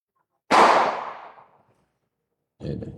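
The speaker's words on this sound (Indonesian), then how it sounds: "Ini pakai petasan." A single sharp firecracker bang goes off outdoors during Eid al-Fitr, loud and close, and its echo fades over about a second. A voice begins speaking shortly afterward.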